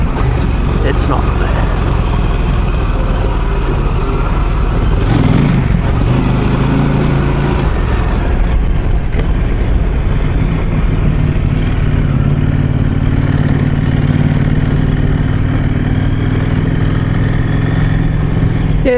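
A motorcycle engine running at low revs, around 2,000 rpm in third gear, a steady mid-pitched drone beneath someone talking throughout.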